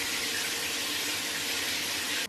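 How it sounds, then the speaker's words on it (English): Shower running in a London home, a steady dense hiss of spraying water that continues without a break before cutting off abruptly at the end. "I am gonna get in the shower"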